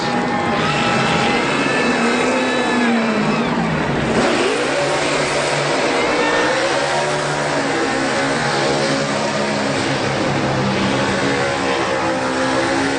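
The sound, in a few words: NASCAR Xfinity stock car doing a burnout at Indianapolis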